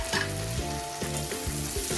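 Two large chopped tomatoes fry and sizzle loudly in a pan for a Tamil vada kuzhambu, a steady close crackle with rhythmic stirring scrapes throughout.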